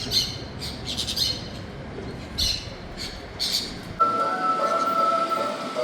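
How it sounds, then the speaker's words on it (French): Loud squawking parrot screeches burst out several times over a steady rumbling background in Medellín, then give way to a sustained tonal hum. "on se fait réveiller au son d'un cri strident de perroquet"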